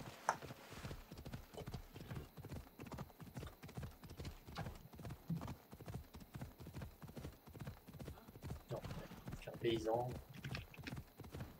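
Horse hooves clip-clop in a steady trotting rhythm in a video game, with a brief whinny near the end, while someone talks in French over the sound.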